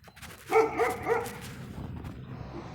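Dogs bark a few times close by, with a short yappy burst at first and then a rougher, noisy stretch. No voices are heard.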